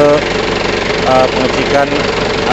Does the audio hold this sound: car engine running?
yes